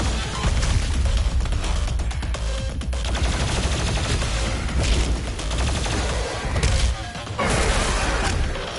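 Rapid enemy weapon fire in the Doom Eternal video game, a dense, loud barrage of gunshot-like blasts and crashes that runs almost continuously with only brief lulls.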